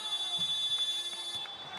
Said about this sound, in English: that buzzer signifies that the 25-second possession has come to an end